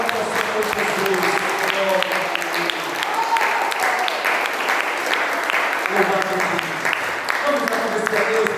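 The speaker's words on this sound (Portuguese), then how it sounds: "Que as suas palmas nesta noite exaltem o Senhor Jesus." A church congregation at an evening teaching service claps continuously, a steady, full wash of applause with a voice speaking or praising over it near the start and end.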